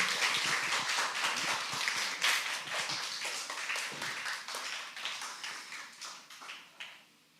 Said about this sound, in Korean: 우리 나오실 때 박수로 좀 환영했으면 좋겠습니다.